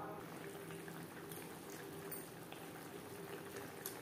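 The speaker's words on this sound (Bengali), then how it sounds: "ফুটে ওঠা পর্যন্ত অপেক্ষা করব।" A pot of Bengali bhetki fish kalia gravy coming up to a boil, a faint steady bubbling simmer with soft liquid gurgles and no clear speech.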